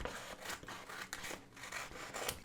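Scissors cut through paper for a reading journal page, making a steady series of soft, close snipping and rasping strokes with no one speaking.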